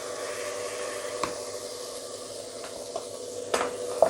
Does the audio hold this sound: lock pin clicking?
no